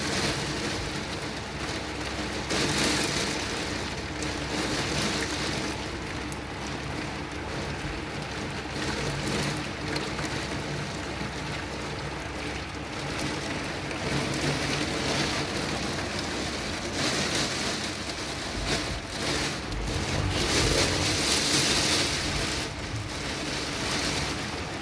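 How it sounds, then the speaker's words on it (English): Heavy rain pours in a steady, dense wash, drumming against a window pane throughout, with no talking over it. "Look at the rain falling extremely hard, beating off the window pane."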